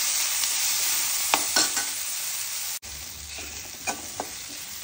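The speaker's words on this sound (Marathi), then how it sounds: "टोमाटे बरे मोव जायसर तळसून घेवया" Tomatoes sizzle in hot oil in a pan, a steady crackling hiss broken by a few scraping stirs and one brief cutoff, close and loud with no voices.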